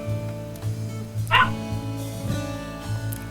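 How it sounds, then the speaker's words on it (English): Wolf pups in the video game WolfQuest 3 make short, close yips and whimpering howl attempts, with a few sharp cries rising between the repeated yelps. "They don't quite know how to howl yet, in my opinion."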